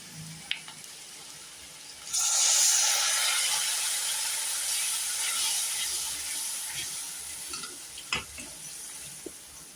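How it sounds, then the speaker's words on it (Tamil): Steady frying sizzle and hiss from a hot pan as masala is sautéed with a little water for a cashew potato gravy, starting abruptly after a quiet moment and continuing with occasional soft clinks of stirring. "இதில் கொஞ்சம் தண்ணி விட்டு நல்லா மசாலா கலவையெல்லாம் வாசம் போகிற மாதிரி வதக்கிக்குவோம்."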